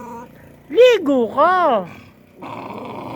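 A dog refusing a bath lets out a few loud, close, rising-and-falling growling howls, almost voice-like, while a person speaks just before and after.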